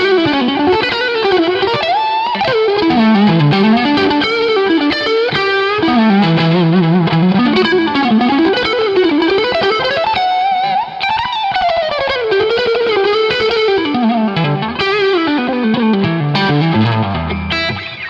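Electric guitar played through a Two Notes Genome amp simulator on a preset, a driven, lightly distorted lead tone with fluid runs and bends, loud and continuous with no talking.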